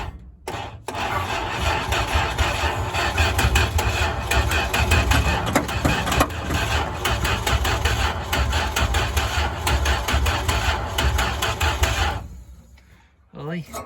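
A 1987 Dodge Dakota derby truck engine cranks and catches, then runs loud and rough at a steady idle for about twelve seconds before cutting off, heard close up.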